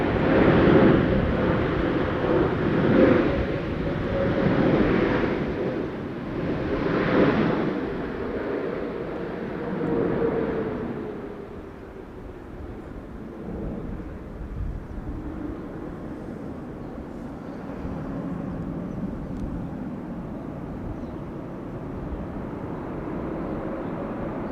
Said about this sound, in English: the reverser's quite clearly audible